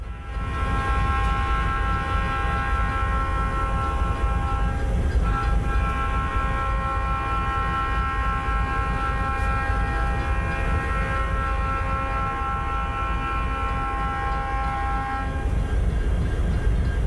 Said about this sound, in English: a northbound CSX ballast train heads up the mountain to Sherwood